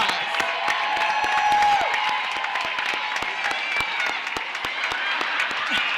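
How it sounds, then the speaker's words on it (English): Commencement ceremony crowd applauding with scattered cheers, sustained dense clapping across the whole stretch from a large standing audience. "Let's give them all a round of applause."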